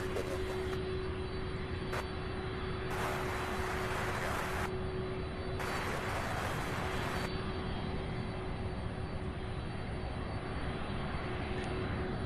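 An aircraft arriving at Louisville International Airport gives a steady, broad engine roar that stays loud and constant throughout, with a faint tonal whine running through it.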